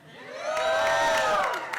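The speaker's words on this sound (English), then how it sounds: "can you give me a shout out if you're from Nova Scotia? Okay, a little louder." A crowd yells and cheers together, a loud sustained chorus of voices that rises, holds and fades within a couple of seconds.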